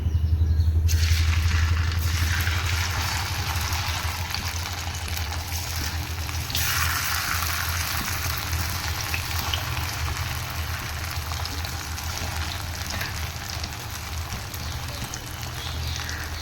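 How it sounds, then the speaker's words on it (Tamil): Raw banana chilli pieces fry in hot oil, a steady dense broadband sizzle and crackle that stays loud and close throughout, with a brief low rumble at the start and no talking. "எண்ணெய் சூடாகிடுச்சு, சில்லி போட்டுக்கலாம்."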